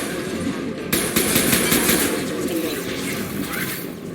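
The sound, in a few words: gunfire in the video game Mass Effect 2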